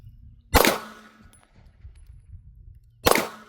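A Girsan MC P35 Browning Hi-Power clone pistol fires two sharp, loud shots about two and a half seconds apart at an outdoor range, with quiet ambience between them.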